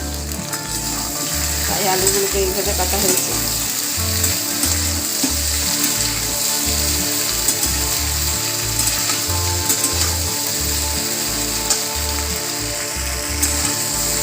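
Cut potato pieces and okra sizzle and crackle steadily in a hot pan, with a rhythmic scraping of stirring beneath and a voice talking over the frying.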